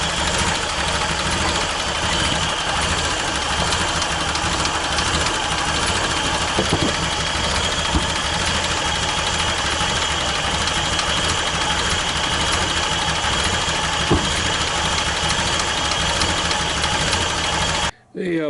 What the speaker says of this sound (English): it's idling about 400 RPM.